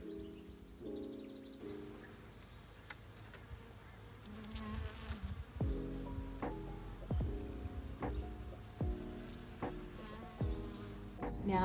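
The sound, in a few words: bumblebees and bees buzzing along hedgerow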